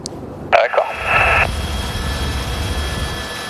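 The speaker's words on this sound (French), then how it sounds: "il y a plein de monde des fois qui se plaint de le bruit de l'hélico" A helicopter flying over the remote Mafate cirque on Réunion Island holds a steady low rotor and engine drone throughout, with a few brief sharper sounds near the start.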